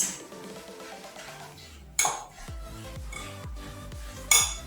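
Coleslaw being mixed in a bowl, with utensils clinking and scraping against the dish in a steady stirring rhythm and two sharper knocks, close and moderately loud with no talking.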